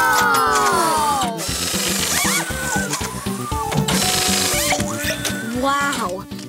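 In a cartoon, a power tool whirs in quick bursts while changing a vehicle's wheels, with ratcheting pulses under cheerful music and talk.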